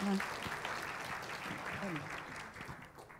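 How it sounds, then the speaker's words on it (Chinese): A congregation at a church service claps in welcome, a steady wash of applause that holds for several seconds before slowly thinning out. "Let's give him a big hand."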